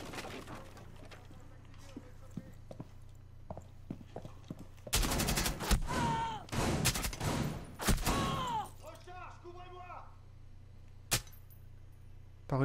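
Gunfire from a gun in the video game Rainbow Six Siege: a dense cluster of loud, rapid shots in the middle of the clip, framed by quieter stretches with faint clicks, a chirpy tone and a voice talking.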